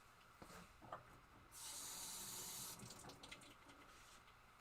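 Running tap water gushes into a sink for about a second while a paint brayer is rinsed off, a steady close hiss that starts and stops abruptly amid faint background sounds.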